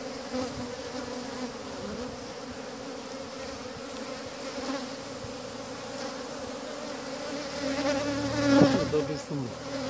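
Honeybees buzz steadily around a two-storey beehive outdoors, a dense continuous hum with individual bees droning closer and louder near the end.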